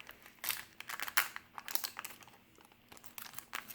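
A Star Wars CCG Coruscant booster pack wrapper is torn and crumpled open, producing close, bursty crinkling and tearing in quick irregular rustles with short pauses, fairly quiet, and no voices.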